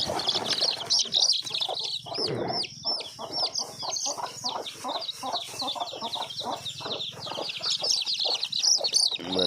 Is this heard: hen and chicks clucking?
yes